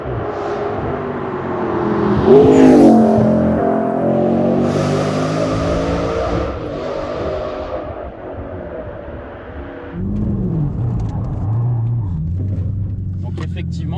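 Audi R8 bi-turbo with over 750 horsepower revving hard while drifting, a loud sustained engine roar with rising and falling pitch, heard close from inside the car with someone talking over it.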